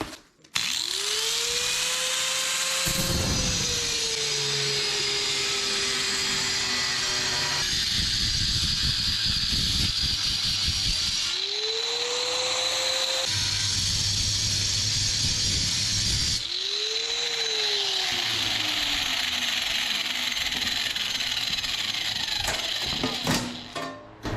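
A power drill whines up and down in several bursts, drilling plug weld holes in car body metal on a Datsun, with grinding, rattling noise between spin-ups and pauses.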